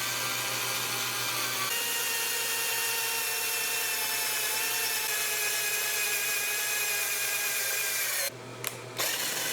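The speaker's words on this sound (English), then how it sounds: "We're going to be drilling with the hole saw, and just start right in the center" A cordless drill fitted with a dull hole saw cuts into PVC pipe, giving a steady, loud, continuous whir and grinding rub that holds for most of the stretch, with a brief stop and restart near the end.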